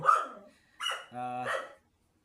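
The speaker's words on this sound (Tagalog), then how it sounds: "Ang ingay ng aso natin." A dog barks three times nearby, loud and sharp with short pauses between barks, then silence.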